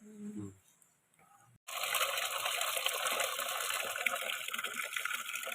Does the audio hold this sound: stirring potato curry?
no